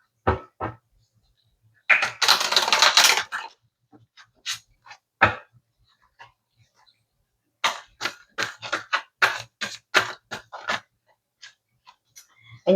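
Tarot cards shuffled by hand, with a long riffling burst, scattered soft slaps and taps of cards landing, then a run of quick close card snaps and flicks separated by quiet gaps.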